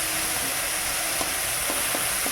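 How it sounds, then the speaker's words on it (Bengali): Prawns and potatoes fry in a pan at home, giving a dense, even sizzle with a few faint stirring taps beneath it and no talk. "এই যে চিংড়ি মাছটা ভেজে নিয়ে আমি আলুটা ভেজে নেব।"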